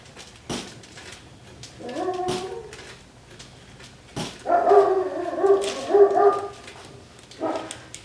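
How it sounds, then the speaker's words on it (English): A German Shepherd barks from a distance outdoors, a few bursts of yelping barks spread across the stretch with quiet gaps between them, no talk over it. "Y'all hear my dog out there?"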